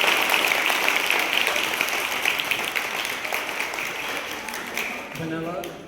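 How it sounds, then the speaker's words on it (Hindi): A crowd at a girls' sports academy event gives a loud, steady round of applause. The clapping stays dense and even throughout and eases slightly toward the end. "जोरदार ताली बजाइए।"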